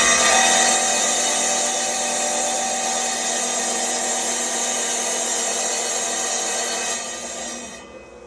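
A wet tile saw cuts through a clamped tile, a loud, steady high-pitched grinding whine held for about seven seconds before easing off as the cut finishes.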